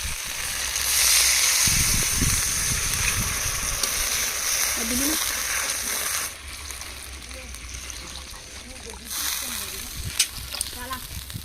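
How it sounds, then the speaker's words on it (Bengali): Water poured into a pan of fried spices for a banana and rupchada fish curry, a loud hissing sizzle that gradually settles into softer bubbling with a few clinks. "এবার জল দিয়ে দেবো। মিক্সিংটার ধুয়ে সেই জলটুকু দিয়ে দেবো।"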